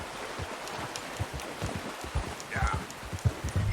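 Horse hooves walking in Red Dead Redemption 2, a soft, steady clip-clop of plodding steps under a faint wash of ambient outdoor noise, moderately close and fairly quiet.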